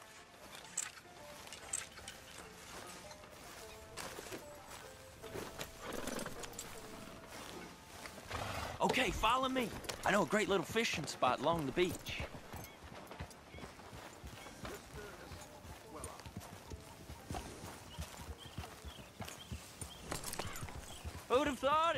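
Horse hooves clip-clop in a video game as riders head toward a beach fishing spot, a steady rhythmic trot running under spoken dialogue, with game music and other sounds around it.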